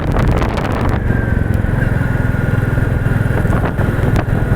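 A Royal Enfield Bullet 350 Military Black motorcycle overtakes on a hilly road, its engine a loud, steady close-up thump under heavy wind rush for the whole stretch, with no talking.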